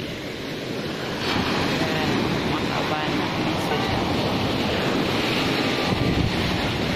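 Heavy ocean surf roars continuously at Mangkalay Beach, Lugus, Sulu, with gusty wind buffeting the microphone, and a voice speaks briefly over the rush of the big breaking waves.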